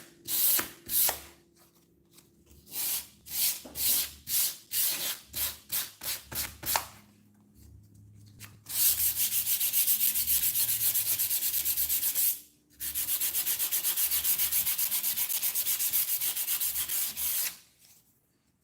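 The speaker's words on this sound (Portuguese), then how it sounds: "Vou lixar também seguindo o sentido da ripa aqui na vertical." Sandpaper rubbing along the vertical slats of a wooden "Home Sweet Home" door decoration: a run of quick separate scraping strokes, then two long, steady, loud passes, each broken by a short pause, with no talking.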